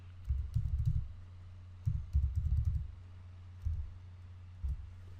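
A computer keyboard clatters in quick bursts of typing, two longer runs of keystrokes followed by a few shorter clusters and single taps, close and quiet against a low hum.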